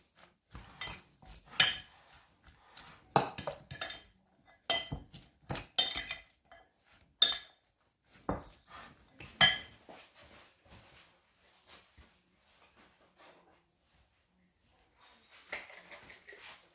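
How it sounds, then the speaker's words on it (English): Utensils tossing a fennel and avocado salad in a bowl, with a series of irregular clinks and scrapes of cutlery against dishware, close and clear, trailing off into quieter stirring. "give it a bit of stir"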